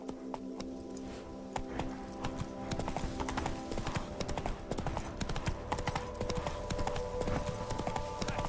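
Steady galloping hoofbeats from Roach, the horse in The Witcher 3, a fast drumming clip-clop that grows louder and denser after the first few seconds, layered over ambient game sound.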